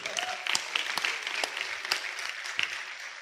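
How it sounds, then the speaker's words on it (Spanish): A church congregation claps together in a sustained burst of applause, steady and fairly close, with scattered sharper individual claps standing out from the dense wash. "Denle un aplauso al Señor."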